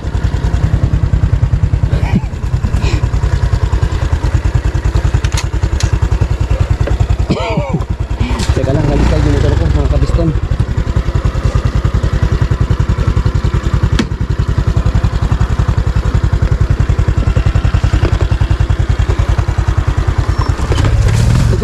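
Motorcycle engine running steadily on a rural dirt road in Zamboanga del Norte, loud and continuous with clattering bumps and a brief scraping slide partway through, a voice speaking over it.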